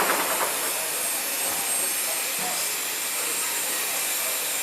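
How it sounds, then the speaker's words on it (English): Steam locomotive 3642 on display at a train expo at Central station, giving off a steady, loud hiss that fills the whole stretch without a break. "Here's a closer look at one of the locomotives, 3642."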